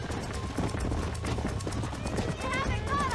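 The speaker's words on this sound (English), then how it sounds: "let's get on my horse" Horse hooves clip-clop at a gallop in Red Dead Redemption on a ranch, a steady rapid drumming under continuous talk, with other game sounds around.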